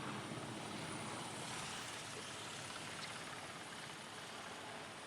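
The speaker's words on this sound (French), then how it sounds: "C'est quand même un hélicoptère très lourd, hein. Il est extrêmement puissant" A heavy, powerful firefighting helicopter lifting a water bucket over the Gardon river in the Gard, its engine and rotor roar loud and steady overhead throughout with no talk.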